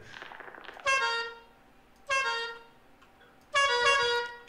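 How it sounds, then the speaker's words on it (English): Three separate blasts of a vehicle horn in Lethal Company, each a bright, buzzy tone lasting about a second, spaced apart with quiet game ambience in between. "What'd you honk at?"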